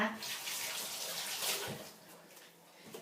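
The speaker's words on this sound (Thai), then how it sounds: "ปลาแดดเดียวเดี๋ยวล้างมือแป๊บนึงนะคะ" Running tap water splashing over hands being washed in a home kitchen, a soft steady hiss with small bumps of movement, faint and near.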